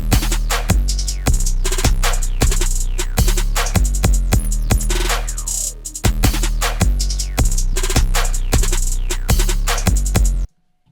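Programmed drums in a black metal style type beat: booming, distorted kicks and sharp snare hits in a steady, driving loop with bright hi-hats, loud and dense, with a brief break mid-way and an abrupt stop.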